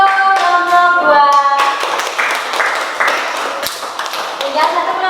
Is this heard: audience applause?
yes